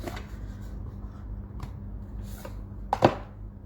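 Soft riffling and light card handling, ending in a brief sharper flutter of cards being shuffled nearby.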